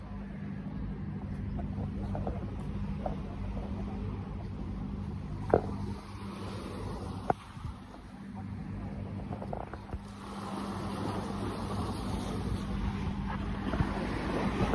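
Sea waves washing along with a boat at sea off Turkey, a continuous low rumble with wind buffeting the microphone and a few sharp knocks midway.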